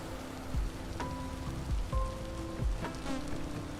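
Rain falls steadily in the video game Vintage Story, a constant hiss of drops on surfaces with a few brief tonal game cues and soft thumps over it.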